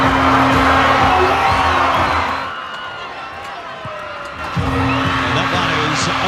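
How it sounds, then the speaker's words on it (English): Stadium crowd cheering and whooping after a try in a Fijian Drua versus Blues rugby match, a loud sustained roar that dips briefly midway and then surges back, with commentary over it. "Listen to the crowd now."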